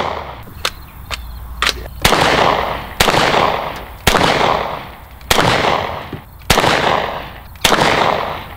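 Gunshots on hunting land: eight sharp, loud reports at roughly one-second intervals, each with a short decaying echo, with two fainter snaps before them and no talking.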